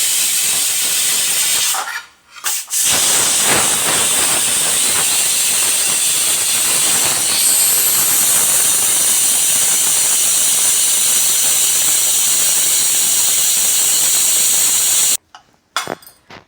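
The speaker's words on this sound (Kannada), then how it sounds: "ಈಗ ನಾನು ವಿಷಲ್ ತೆಗ್ದೆ" Loud, steady steam hissing from a pressure cooker after its whistle is lifted off, a sharp continuous jet that runs for about fifteen seconds with one brief dip near the start before cutting off.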